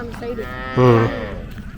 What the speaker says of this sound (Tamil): இது எல்லாம் சரவணன் அவங்களுடைய மாடு அங்கே இருக்கு